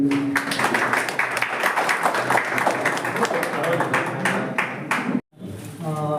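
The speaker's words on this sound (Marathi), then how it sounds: "जोरदार टाळ्या झाल्या पाहिजे." A crowd claps loudly and steadily at an Ayurvedic hospital inauguration, dense applause for about five seconds before breaking off, with a voice speaking over the end.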